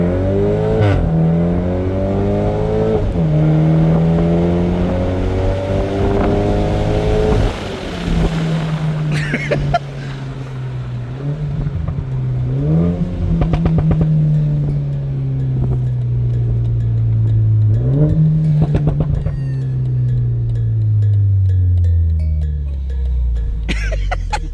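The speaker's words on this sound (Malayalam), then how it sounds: "നമ്മൾ ലോ ഗിയറിലേക്ക് വരുന്ന സമയത്ത് റൂഫും കൂടെ താത്തി കഴിഞ്ഞപ്പോഴത്തെ ആ പോപ്സ് ആൻഡ് ബാങ്ക്സ് എന്ന് പറയുന്നത് സോ ഗുഡ്" A BMW Z4 convertible with the roof down revs loudly and continuously while driving in low gear, the engine note rising and falling with occasional sharp exhaust pops and bangs.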